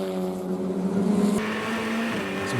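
Race cars roar past at Canadian Tire Motorsport Park during an FR Americas sprint race, a steady engine drone with a rising pitch shift as one car passes close by.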